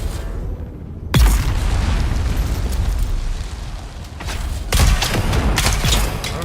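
Gunfire and explosions in the video game Dune Awakening: a loud boom hits, followed by sustained rumbling bursts of fire, then a second heavy blast and more dense, roaring fire with no talking.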